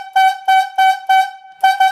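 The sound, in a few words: yarder whistle logging signal for the tail rigger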